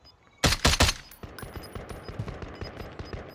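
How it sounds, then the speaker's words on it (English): Bursts of automatic gunfire in Call of Duty Cold War Warzone: a loud rapid volley of three close shots, then a long trail of quieter distant shooting that echoes on. "They're taking shots at them right now."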